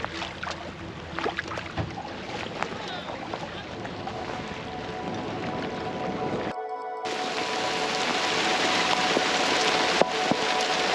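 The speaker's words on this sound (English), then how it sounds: "Dark clouds coming my way. It's rainy." Rain falls on a Mini 6.50 sailing boat racing on the Baltic, a steady broadband hiss mixed with wind and water. The sound drops out briefly midway, then grows gradually louder.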